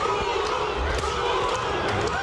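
A boxing crowd chants steadily in a dense, continuous roar of voices, loud and close, with no clear break between repetitions of the chant.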